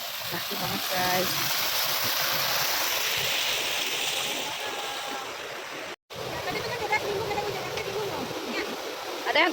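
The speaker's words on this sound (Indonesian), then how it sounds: "Dan di sana itu ada sungai." Continuous rushing water of a river fills the scene with a steady wash, briefly cutting out once before resuming.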